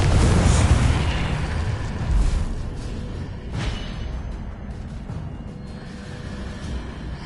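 Blast of the Confringo explosive spell in Hogwarts Legacy: a loud, deep boom up front, then a rumbling, fiery roar that slowly fades, with a few smaller bursts and whooshes trailing behind.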